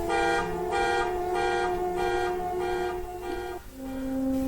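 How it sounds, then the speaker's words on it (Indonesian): A car alarm blares in repeated pulsing tone bursts, loud and near, then shifts to a different steady tone near the end. "Malam itu alarm mobil Nimas kembali berbunyi dengan sendirinya"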